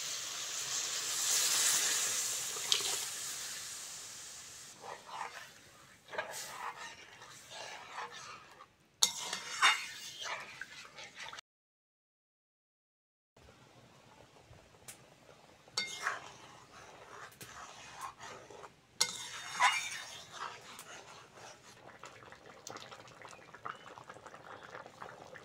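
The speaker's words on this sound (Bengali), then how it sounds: "এবার সেদ্ধ করা ডালটা দিয়ে দেবো।" Boiled lentils cooking in a pot with fried jute leaves for a village-style Bengali dal, quiet bubbling and liquid sounds with intermittent clinks of utensils against the pot, broken by a short silent gap.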